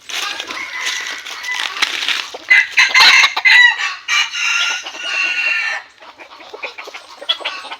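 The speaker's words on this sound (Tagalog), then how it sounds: "napakalikot na mga manok yan, si Barabas." Gamecocks and roosters crow loudly up close in a backyard flock, several overlapping crows and clucks rising and falling in bursts, with no talk.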